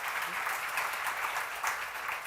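A church seminar congregation claps together, a short burst of dense, fairly loud applause with slightly pulsing intensity and no voices over it.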